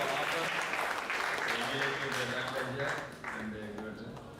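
An audience at a medical conference on psoriasis gives its speakers a steady round of applause, with a voice talking over the clapping before it tapers off.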